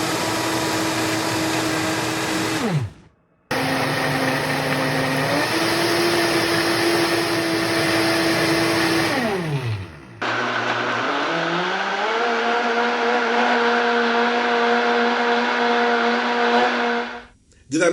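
A powerful Vitamix blender motor runs loudly and somewhat roughly in a kitchen, a sustained roaring whine that ramps up and down in pitch through several speed changes, with brief stops between runs.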